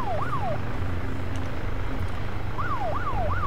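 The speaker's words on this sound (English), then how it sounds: "I like to turn their sirens on," A police car siren in the video game ArmA 2 wails, rising and falling in quick sweeps, fading out in the middle and returning, over a steady engine rumble.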